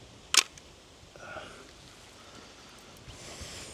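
A Pentax K2 film camera fires its shutter once, a single sharp mechanical click near the start, close by, followed by faint ambient outdoor noise in a botanical garden.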